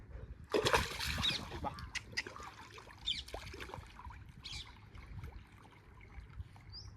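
A goat swimming through shallow water, just deep enough for it to dip under, its splashes and trickles loudest near the start and continuing in smaller dribbles and laps throughout.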